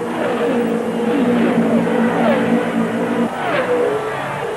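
Indy 500 race cars of 1979 roar past on the oval, their high-pitched engine notes rising and falling as they pass one after another, loud and continuous with no talk.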